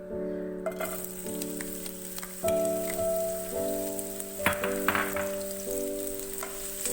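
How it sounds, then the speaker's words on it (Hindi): Onions fry in about three tablespoons of hot oil for a reshmi chicken dish, giving off a steady, close sizzle and crackle, with a faint tonal hum in the background and no talking. "ऑयल हमारा गर्म हो जाएगा तो मैं इसमें प्याज डालूंगी।"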